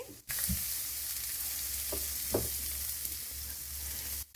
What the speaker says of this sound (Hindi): मसाला डालने के बाद हम इसको आधा मिनट फ्राई कर लेंगे।